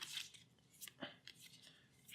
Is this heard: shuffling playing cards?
yes